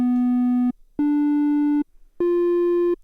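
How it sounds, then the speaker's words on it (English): A synthesizer playing a triangle wave: three soft, mellow sustained notes, each under a second, with short silences between and pitch rising slightly from note to note, noticeably smoother than a buzzy sawtooth. "there's a triangle wave,"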